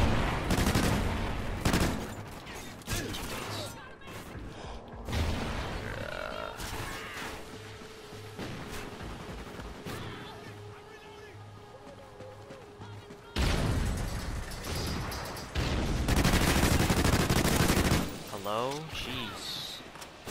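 Automatic gunfire and explosions crash through a Call of Duty: Ghosts match in dense, loud bursts, with short calmer stretches between them and voices over the action.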